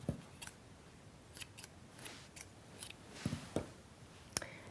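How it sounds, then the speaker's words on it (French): Scissors snipping wool yarn for knitting, a quiet string of sharp, close clicks and cuts with short gaps between them. "Je coupe donc à peu près 50 cm de laine."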